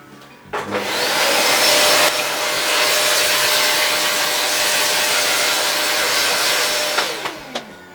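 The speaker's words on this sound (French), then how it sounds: "on va commencer par passer un coup d'aspirateur pour enlever un peu la poussière qu'il y a dessus" A vacuum cleaner sucks dust out of a laptop during cleaning. Its steady, loud whooshing drone switches on just after the start, runs evenly for about seven seconds, then winds down with a few bumps at the end.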